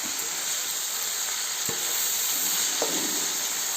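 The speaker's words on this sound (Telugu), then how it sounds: "మట్టికాయలన్నీ కలుపుకొని కొద్దిగా పసుపు, కొద్దిగా సాల్ట్ ఇంతా ఇట్లా కలుపుకోవాలి." Broad beans with turmeric and salt fry in a pan with a steady, close hiss of sizzling, while a few soft scrapes of stirring break through the constant crackle.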